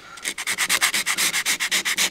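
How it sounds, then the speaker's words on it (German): Rhythmic back-and-forth strokes of 120-grit sandpaper on a scooter cylinder's sealing surface, a dry raspy scrubbing repeated about eight times per second, close and steady with no talking. "Dazu nehmen wir hier jetzt 120er Schleifpapier und fangen ganz zart an,"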